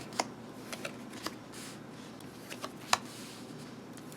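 Soft, brief riffling and snapping of cards, a few separate bursts spread over a quiet background, close by with no talking.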